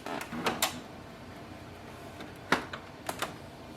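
A few sharp plastic clicks and clunks, spaced apart, as a Canon Pixma printer cover is pushed shut; nearby and fairly quiet, with no talking.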